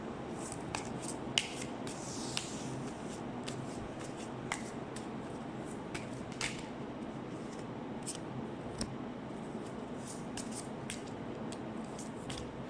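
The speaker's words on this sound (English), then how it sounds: "I will now shuffle the cards." Tarot cards are shuffled by hand in a steady run of soft riffling, rustling and small snapping clicks, close and fairly quiet, with no talking.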